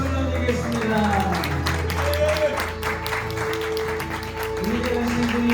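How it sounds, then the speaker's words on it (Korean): A church congregation claps in a sustained burst of applause praising Jesus, the dense clatter of many hands mixed with tonal music and voices in the background. "우리 예수님께 영광의 박수 올려드리겠습니다"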